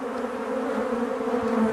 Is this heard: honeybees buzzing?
yes